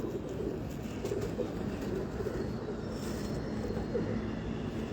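Pigeons of a Pakistani fancier's flock cooing steadily outdoors, a continuous low murmur of coos over faint background noise, no talk.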